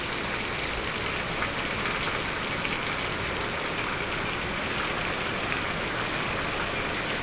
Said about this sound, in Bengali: মুসুল ধারা বৃষ্টি হচ্ছে মুসুল ধারা বৃষ্টি